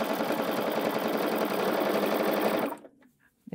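A sewing machine stitches quilt fabric in a fast, even mechanical patter. It runs steadily and close for about two and a half seconds, then stops, leaving near silence.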